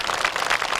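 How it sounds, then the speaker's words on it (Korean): An audience claps in a brief, steady burst of applause at a children's science festival ceremony, busy and fairly loud, with no voices above it. "여러분 박수 한번 더 쳐주시기 바랍니다."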